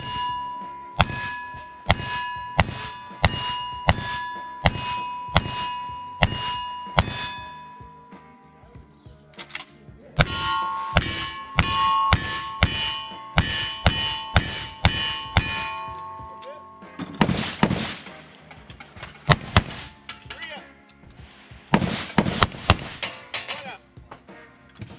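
Cowboy action shooting stage: a rapid series of gunshots, each followed by a bright ringing clang from steel targets, loud and close with a steady rhythm, then denser bursts of shots later.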